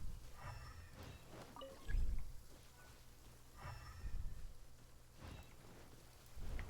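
Rain in the video game Genshin Impact, a steady pattering wash with soft swells and occasional low rumbling thumps, heard alone without talk.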